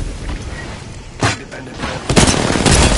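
Bursts of gunfire in the video game Apex Legends during a firefight, with a sharp burst partway through and a heavier, sustained volley near the end, loud and close over a busy game background.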